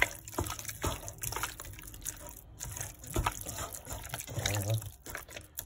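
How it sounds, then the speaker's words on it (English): Water is poured into fried chicken batter in a bowl, a soft trickling and dripping that comes and goes across the clip with a few clinks, close by and fairly quiet. "I'm going to add some more water."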